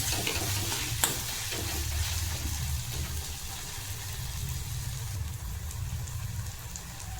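Misal sautéing in a pan on lowered heat, a steady loud sizzle running throughout with occasional stirring scrapes, close and continuous.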